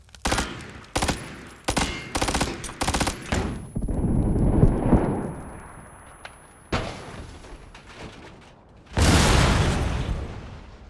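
A run of rapid gunfire bursts in PUBG gives way to a roaring grenade blast that swells and fades, followed by a few more shots and another loud explosive rush near the end.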